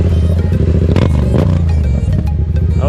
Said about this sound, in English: I love how this exhaust sounds.